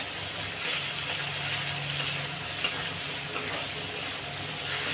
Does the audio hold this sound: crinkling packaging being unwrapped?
no